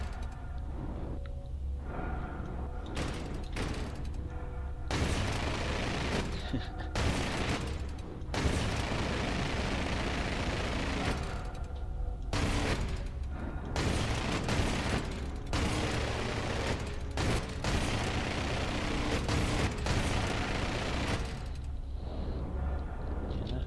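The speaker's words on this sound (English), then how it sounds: "whereas the main guns will fire directly ahead." Ship guns on an Avenger spacecraft in the Star Citizen video game firing in long rapid bursts, loud and dense with deep booming rumble, broken by brief gaps between volleys.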